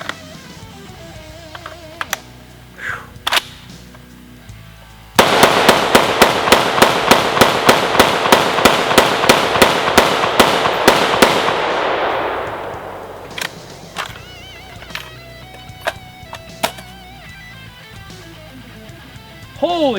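A Century C308 rifle fires a long rapid string of about twenty loud, evenly spaced shots during a 1000-round torture test, with a few scattered single reports before and after.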